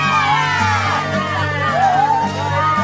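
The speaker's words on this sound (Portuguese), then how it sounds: "Pessoas comemorando e aplaudindo." A crowd cheers and whoops together, loud and continuous, celebrating word that the BTK strangler is in police custody after a 30-year ordeal.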